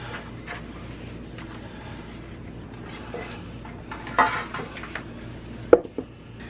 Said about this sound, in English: we're gonna butter an 8x8 pan